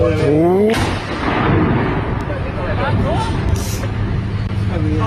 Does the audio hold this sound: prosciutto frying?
no